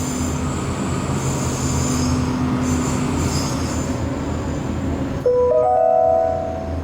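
Disney Skyliner gondola glides into the Caribbean Beach Resort station at Walt Disney World, a steady rolling rumble with squealing wheels and mechanical whine that ends in a sharper, louder tonal screech as the cabin slows near the platform.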